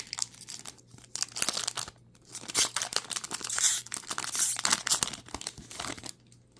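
A 1998-99 Swedish Hockey League trading card pack is torn open by hand, giving close, soft crinkling and ripping of thin wrapper in irregular bursts over several seconds, with no talk.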